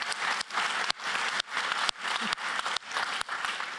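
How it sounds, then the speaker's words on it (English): Indoor audience at a circular economy keynote applauding steadily, a dense wash of many hands clapping that comes in several short swells, close and fairly loud. "Yeah, a little bit of applause."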